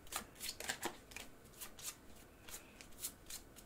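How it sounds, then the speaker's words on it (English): A deck of cards is shuffled during a solo tabletop board game, with a quick series of crisp riffling bursts and soft card slaps close by and no talk. "I've got to shuffle this up"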